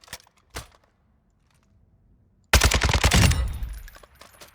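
An RPK machine gun in Warzone 2 fires two sharp single taps, then, after a pause, a loud, sustained rapid burst right up close.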